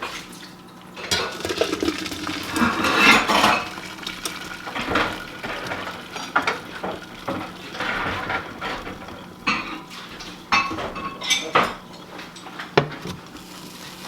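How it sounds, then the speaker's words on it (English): Cooked potatoes are drained from a pot with the cooking liquid kept, giving splashing water and clanking pot and lid sounds up close, with no one talking. "now I'm going to drain them, and I'm going to reserve the liquid"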